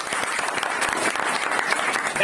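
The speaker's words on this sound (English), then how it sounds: "That's why तो clapping बनता है इसके लिए" Students in a classroom clap for a top-scoring girl, a lively, close round of individual hand claps with distinct sharp slaps over a continuous clatter, with some voices underneath.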